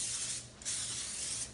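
Pam cooking spray hisses from an aerosol can onto a pan in two steady, close bursts with a brief pause between them and no talking.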